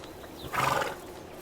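A single neigh from a Siberian wild horse in winter steppe, a short, clear call close by with no other sounds.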